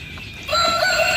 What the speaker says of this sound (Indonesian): Wah, ayamnya berkokok.